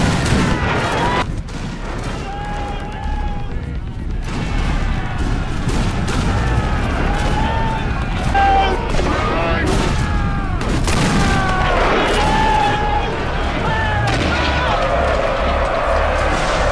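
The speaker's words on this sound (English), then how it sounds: "several of the bolder troops, along with Booth, stopped to deliver a volley" Rifle volleys and gunfire from a Total War game battle recreating the 1879 fight at Intombe Drift, with sharp shots and booms over a constant battle din and a voice talking throughout.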